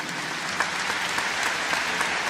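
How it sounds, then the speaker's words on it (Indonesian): A church congregation claps together in steady, sustained applause during a worship service, a dense continuous patter of many hands with no talk over it. "beri tepuk tangan untuk Tuhan Yesus."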